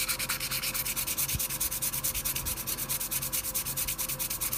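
Close, rhythmic sandpaper strokes scrubbing across a cured epoxy LED lamp surface to remove fine scratches, a fast, even back-and-forth rasp repeating steadily throughout with no voices.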